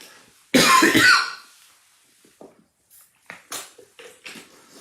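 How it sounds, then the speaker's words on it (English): One loud, rough cough up close, followed by a few softer breathy throat noises and small coughs trailing off. "excuse me for the cough"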